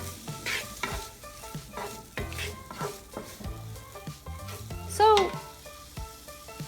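Red peppers and garlic sizzle in a pan for a frittata while a utensil stirs and scrapes in repeated strokes, and a voice briefly speaks over the frying.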